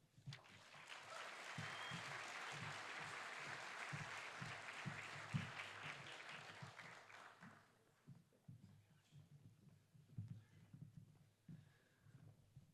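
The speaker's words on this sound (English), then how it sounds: "One more round of applause for them, please." Audience at a school academic awards night applauds junior-class honorees, a dense, sustained clapping that fades after about eight seconds into scattered claps and low room murmur.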